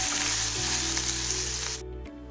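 Green chillies frying in a pan give off a loud, continuous sizzle while being stirred, and the sizzling drops off sharply near the end.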